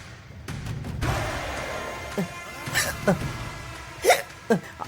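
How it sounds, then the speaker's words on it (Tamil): Repeated hiccups from a person in a wedding hall in a Tamil TV drama scene: about five sharp, irregularly spaced vocal catches over soft background murmur. "ரொம்ப விக்கல் வருது அத்தை, ஏதாவது ஆயிட போகுது அத்தை."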